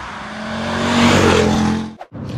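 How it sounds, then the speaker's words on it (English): A BMW E87 123d with a 250 hp diesel engine drives hard on the autobahn, a loud steady engine roar that swells midway, then briefly dips and cuts out near the end. "on this episode it's all about the BMW 123 diesel, which is right behind me"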